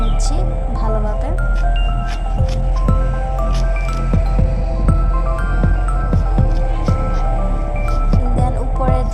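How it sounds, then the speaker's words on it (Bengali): Pomelo skins being peeled away by hand, giving repeated wet squishing and tearing sounds close by over a steady low hum, with some faint talk in the background. "প্রথমে আমরা জাম্বুরাগুলোতে উপরে চামড়াগুলো ছাড়িয়ে নিচ্ছি ভালোভাবে"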